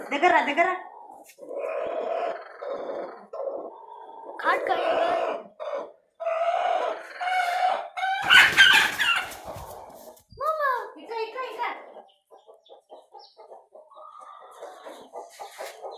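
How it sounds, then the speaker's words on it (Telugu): A hen with newly hatched chicks clucks close by in repeated short calls, with chicks peeping softly toward the end and a voice and other speech mixed in. "ఈ కోడి పిల్లలు తీసింది."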